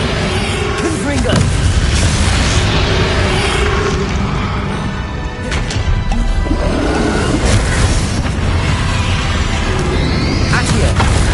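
Confringo blasting-spell explosions in Hogwarts Legacy during the final battle with Ranrock: loud, continuous booming and crashing combat noise with voices speaking over it.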